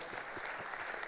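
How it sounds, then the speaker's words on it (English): Audience applause for a speaker at a gathering of partner agencies, a brief dense burst of many hands clapping at moderate distance. "So let us give him extra clap for"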